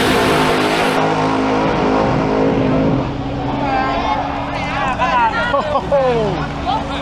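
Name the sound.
nitro drag car racing down the drag strip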